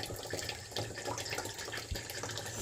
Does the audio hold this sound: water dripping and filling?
yes